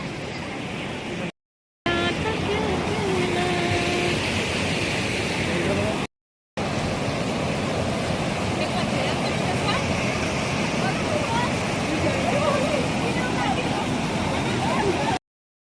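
A river rushes steadily past a riverside spot in Manali, a loud, continuous broadband roar of flowing water mixed with wind buffeting the microphone, briefly cut off twice.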